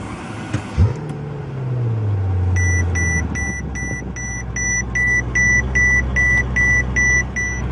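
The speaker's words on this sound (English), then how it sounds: "Put your foot on the brake, hit the button to start." A 2012 Mercedes-Benz S65 AMG with a V12 biturbo engine starts by push button with a short crank and a deep rising rumble that settles into a steady idle, while a regular electronic chime beeps over it.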